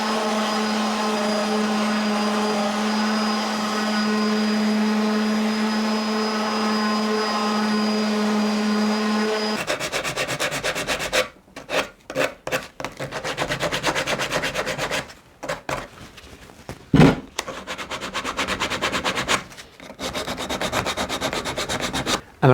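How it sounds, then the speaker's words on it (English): Wood being sanded all the way round for a floating wine bottle and glass holder, first a steady whirring power tool hum, then loud, close rasping strokes in uneven bursts with brief pauses between passes. "So we'll give it a good sand all the way round."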